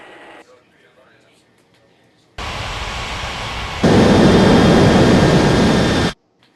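Airliner jet engines spool up for takeoff in an air traffic control game, a loud, steady roar that starts abruptly, then jumps to an even louder, fuller blast before cutting off sharply.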